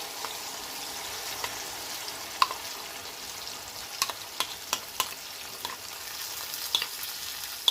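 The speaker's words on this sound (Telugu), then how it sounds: "ఆఫ్ చేసుకొని ఇదిగో ఈ పచ్చడి అందులో వేసుకోవాలి. వేసుకొని కొంచెం కలుపుకోవాలి." Ginger pickle being mixed into a pan after the stove is switched off: a faint low sizzle under scattered sharp scrapes and taps of a spoon against the pan, irregular and close.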